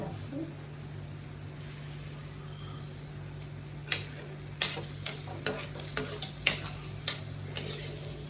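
Onions fry in a pan with a low, steady sizzle, joined midway by a run of sharp scraping clicks as a spatula stirs them, nearby and without voices.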